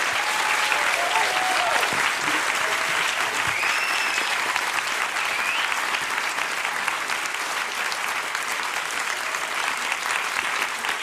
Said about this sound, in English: please give another round of applause for our distinguished guests